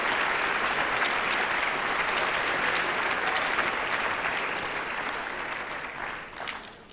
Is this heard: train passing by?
no